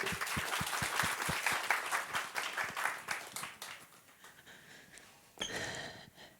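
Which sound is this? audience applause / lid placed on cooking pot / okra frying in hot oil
audience applause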